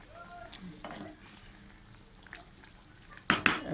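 Paneer curry bubbles in a pan at a gentle simmer, faint and close, with a couple of sharp clinks of a utensil against the pan near the end.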